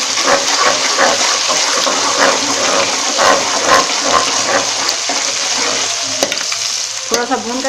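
Ginger garlic paste and whole garam masala fry in oil over browned onions, giving a continuous loud, close sizzle with rhythmic stirring scrapes throughout.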